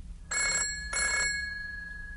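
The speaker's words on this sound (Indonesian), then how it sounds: "Would you mind answering the phone, Iwan?" A telephone rings twice in quick bursts, a bright electronic trill, fairly close with a faint hum behind it.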